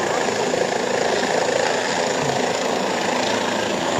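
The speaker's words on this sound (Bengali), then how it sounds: "হেলিকপ্টার কিন্তু ইতিমধ্যে ল্যান্ড করছে" An army helicopter comes in to land, its engine and rotor making a continuous loud broadband roar with steady vibration throughout, heard alone without talk.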